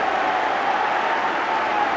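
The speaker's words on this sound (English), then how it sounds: "The Hearts supporters and the crowd entitled to celebrate like that" Hearts supporters in a football crowd cheering at half-time during a 1986 match against Rangers, a broad, continuous roar of cheering and clapping at steady loudness.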